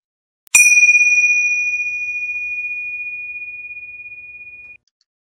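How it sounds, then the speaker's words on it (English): A tingsha bell for a meditation atmosphere is struck once, giving a bright clear ding with a long sustained ringing tone that fades slowly over about four seconds, alone in silence. "so added tinsha bell."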